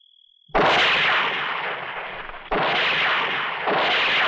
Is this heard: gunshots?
yes